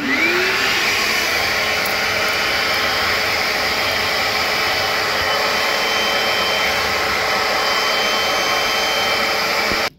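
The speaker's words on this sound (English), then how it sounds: "the vacuum runs at all times through the front of this thing" A Bissell Little Green Machine carpet cleaner runs steadily and loud up close, its constant vacuum whine and spray hiss holding for about ten seconds before cutting off at the end.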